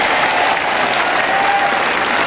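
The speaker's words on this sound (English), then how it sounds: "there's a certain amount of relief about the applause here from this huge crowd at the Ayr Northfield complex" A huge crowd at the Ayr Northfield complex applauds during a bowls world title match, steady loud clapping filling the whole moment without a break.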